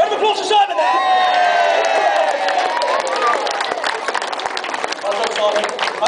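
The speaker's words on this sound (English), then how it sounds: "Round of applause for Simon there!" A crowd at the Clun Green Man festival applauds and cheers for a performer named Simon, with clapping and whoops mixed under a loud voice speaking close by.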